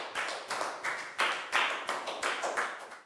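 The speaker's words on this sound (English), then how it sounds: "Big round of applause for Chu" A Year 4 maths class claps together for a classmate, about a dozen loud, roughly even claps in a brisk rhythm, close by and without talk.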